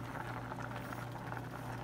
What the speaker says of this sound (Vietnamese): nó luộc tiếp một ít nui nữa